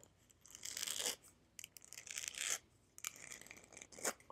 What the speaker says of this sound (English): then cutting it, trimming it just a little bit.